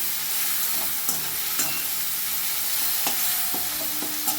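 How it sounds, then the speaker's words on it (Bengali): Tomatoes and onions fry in a pan with salt, a steady bright sizzle broken by a few sharp scrapes and clanks as a spoon stirs them, close up with no talking. "অনবরত কিন্তু নাড়তে হবে, টমেটো পেঁয়াজ যেন ভালো করে ভাজা হয়ে যায়।"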